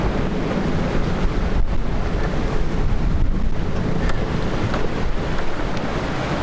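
Strong storm wind buffets the microphone over crashing surf on a beach with a lone palm tree, a loud, continuous roar with rumbling gusts and no voices.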